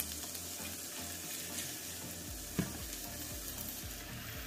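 Onions frying in hot oil, a constant crackling sizzle with a low background hum and a single sharp clack partway through.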